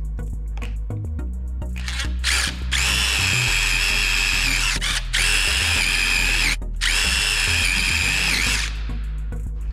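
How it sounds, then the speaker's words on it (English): A power drill whines loudly in three sustained bursts, each several seconds long, with short clicks and pauses between them, close up. "I'm gonna drill some holes in it."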